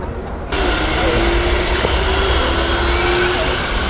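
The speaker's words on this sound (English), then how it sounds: "so we'll watch it go down to the end of runway 27" Boeing 767-300 cargo jet rolling down runway 27 at East Midlands Airport at night, with a broad, steady engine roar that swells abruptly early on and holds loud from a distance.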